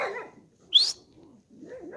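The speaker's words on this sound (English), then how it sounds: "And this dog tonight has flipped out in the living room tonight." A dog barking in a living room at night: one sharp, fairly loud bark in the middle, framed by softer whimpering or growling sounds before and after.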